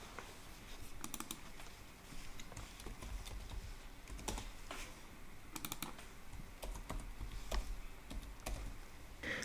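Rapid clicking of a computer keyboard as layers are renamed, irregular bursts of keystrokes close and fairly quiet, with short pauses between runs and no talking.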